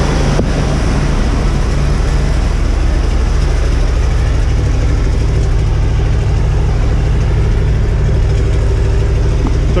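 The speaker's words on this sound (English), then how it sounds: "We'll let it warm up for a couple minutes and we will kick it off high idle, and you'll see it'll come right down and idle as it should." A 1968 Corvette 427/390 HP V8 idles steadily on a cold 29-degree day, a loud continuous low rumble that holds even throughout with no talking.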